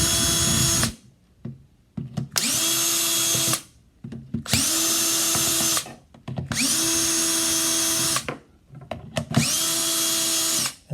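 A cordless drill driver whirs loudly in five bursts of about two seconds each, separated by brief pauses, removing small screws one after another.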